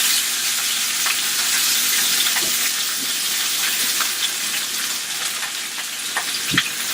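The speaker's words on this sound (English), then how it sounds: "I'm going to drop our spinach into the lovely bacon grease" Loud, constant sizzling of greens frying in hot fat, a dense crackling hiss with occasional pops and stirring clatter, close up.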